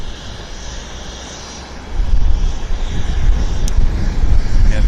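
Air North airliner taxiing at Vancouver airport, a steady low engine rumble that swells louder after the first couple of seconds, with wind buffeting the microphone throughout.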